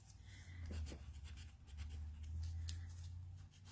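A small eraser rubs back and forth across paper in soft, close, scratchy strokes, faint and intermittent with short pauses between passes.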